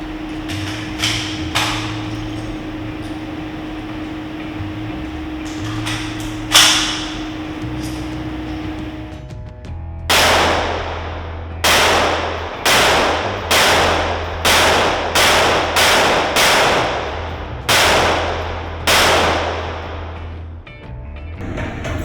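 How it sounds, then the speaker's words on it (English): Ten rounds from a .223 duty rifle fired outdoors by police at an armored backpack target, sharp loud cracks spaced about a second apart with a few earlier single shots, each ringing off briefly. "now we're going to do 10 rounds of the 223 duty weapon"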